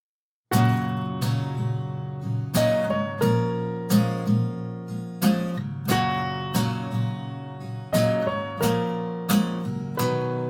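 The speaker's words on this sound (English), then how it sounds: "Now the piano sounds a bit loud, especially on certain notes." Piano intro in a Pro Tools mix, repeated chords struck every second or so with sustained decaying notes, some notes noticeably louder, clean and close with no voices.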